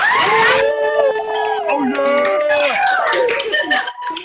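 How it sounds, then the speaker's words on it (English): Scattered clapping and cheering from several people unmuted on a video call during a virtual nursing class pinning ceremony, mixed with overlapping excited voices and shouts, close and loud throughout. "I guess we should all unmute and cheer and clap and celebrate, right?"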